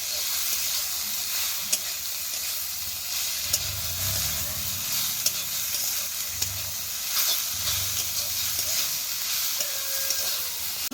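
Potatoes sizzling in ghee in a kadai while being stirred for potato payesh. A steady close hiss runs throughout, broken by occasional soft scraping and low bubbling, with no voices.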